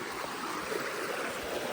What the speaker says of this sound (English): Next to this pristine creek.